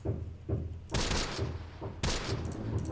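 Machine gun fire in the WW2 video game Close Combat set in Sicily: heavy thudding bursts and booming gunfire, loud and close, with sharp impacts recurring over a rumbling battle.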